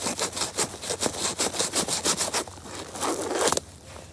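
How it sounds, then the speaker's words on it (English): Sand is poured into a backyard pond, a steady close rasping, gritty rush that pulses in rapid surges, then turns to a smoother hiss before cutting off abruptly. "So I'm just going to be putting in all the sand."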